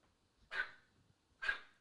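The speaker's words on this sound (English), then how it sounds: "She'll look at her and just bark at her." A dog barks at another dog indoors: two short, sharp barks about a second apart, fairly close but moderately quiet, with near silence between them and no talk.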